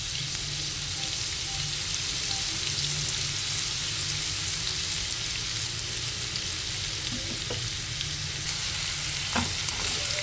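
Onions sizzle and fry steadily in a pan, salted and cooked until soft as the base for puffed rice (pori) upma; the even crackling hiss runs close and continuous with no talking.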